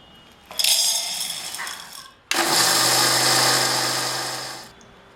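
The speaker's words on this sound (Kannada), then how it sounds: "ಮೊದಲಿಗೆ ಹುರಿಗಡಲೆಯನ್ನು ಮಿಕ್ಸಿ ಹಾಕ್ಕೊಂಡು ಪುಡಿ ಮಾಡಿಕೊಳ್ಳಿ" A kitchen mixer grinder powders roasted chana (hurigadale) in short bursts: a loud whirring grind with rattling jar contents, a brief pause, then a second longer steady run before it cuts off.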